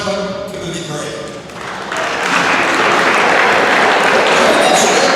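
Audience applause at a high school awards banquet swells after a quieter opening, becoming dense, steady clapping that fills the room through the second half.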